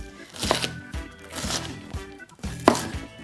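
A knife chops an onion on a cutting board in a few close, loud thuds, each a quick cluster of strikes spaced about a second apart, with no voices.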